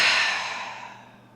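A single long, close exhale of breath during a prenatal yoga movement, a soft airy sigh that fades gradually over about a second and a half.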